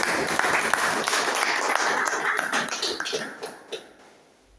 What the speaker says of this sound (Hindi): एक बार अपने लिए फिर से जोरदार ताली।